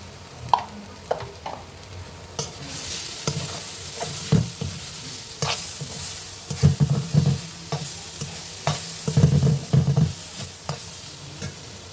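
Slices of yam fry in hot oil in a pan for a crispy, fish-fry-style dish, a steady sizzle broken by repeated scraping stirs and clatter from the spatula, close and fairly loud, no talking.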